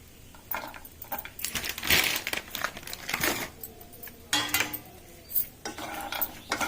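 Cashew nuts tipped by hand into a bowl with other nuts and almonds for dry fruit laddus, a few scattered light clatters and rattling patters against the container, close and fairly quiet, with no voices.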